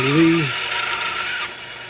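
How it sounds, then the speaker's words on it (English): An RCBS case trimmer trims a brass cartridge case with a steady mechanical whirring and grinding that runs through the clip, and someone talks briefly over the start. "this is a RCBS case trimmer I'm using here"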